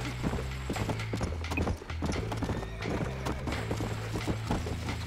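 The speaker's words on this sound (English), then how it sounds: "And then we just need to jump on the horse." Horse hooves clip-clop at a steady trot in the video game Red Dead Redemption, close and rhythmic, with a brief whinny near the start.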